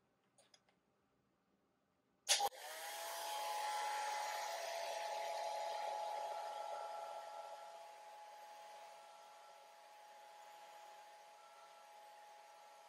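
A hair dryer blowing over a watercolor painting of a resting wood duck, switched on after a brief click and roaring steadily close by, easing slightly quieter toward the end.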